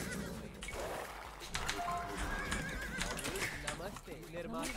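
In a strategy video game, a horse archer's horse whinnies and hooves clip-clop amid battle noise, with people talking over the sounds.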